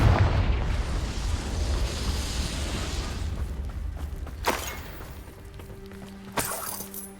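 An explosive Confringo spell in Hogwarts Legacy sets off a deep, rumbling blast that decays over several seconds, followed by two sharper, brief bursts later on, with no talking.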